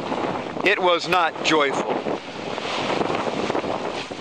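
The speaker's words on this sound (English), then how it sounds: "The wind here is pretty much on the beam." Steady roaring wind noise while sailing at sea on a small sailboat with the wind on the beam, buffeting the microphone continuously as someone speaks briefly at the start.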